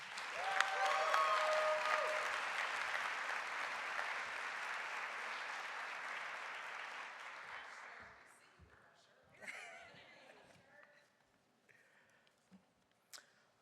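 An audience applauds to welcome Darnell Pierce onto the stage at an ACUHO-I Campus Home event, a long steady round of clapping that fades out after several seconds and leaves scattered claps and stage noise.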